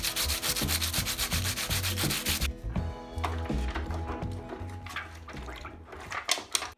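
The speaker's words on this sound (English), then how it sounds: "I then used various types of sandpaper in order to go and sand off the colored side of the soda can." Sandpaper rubbed across the colored side of a soda can, a steady rapid scratchy back-and-forth rasp, loud and close, easing into slower, softer strokes toward the end.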